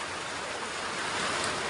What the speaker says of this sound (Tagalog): Overflowing dahil ang lakas talaga ng buhos ng ulan.